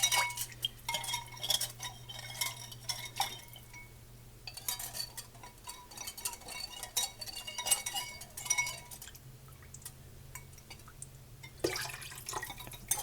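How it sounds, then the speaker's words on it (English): A spoon stirs clear gel thickener into broth in a glass jar while canning turkey pot pie filling, giving repeated light clinks and scrapes against the glass with a steady low hum underneath. "Stir up the clear gel."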